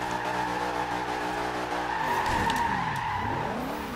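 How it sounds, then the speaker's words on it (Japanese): Tires squeal loudly as a car drifts in Forza Horizon 2, a sustained screech bending in pitch over a steady engine drone, with no talking. "ラディカルドリフト"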